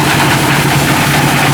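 Meatball grinder machine engine running during a test after repair at a market, a loud steady low rumbling drone with dense rapid vibration, close and continuous.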